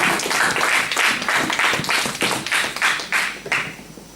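A church congregation claps in praise during a French-language service, a crowd of hands beating a fairly steady rhythm of loud, close claps for several seconds.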